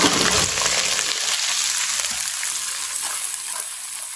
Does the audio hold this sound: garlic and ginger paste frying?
yes